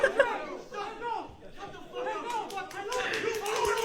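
A crowd at a Call of Duty tournament claps in scattered, uneven bursts under constant chatter and loud voices, the clapping thickening toward the end.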